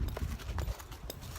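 A horse's hooves clip-clop on the ground during training, a series of quick, close thuds in an uneven rhythm at moderate volume, with no talking.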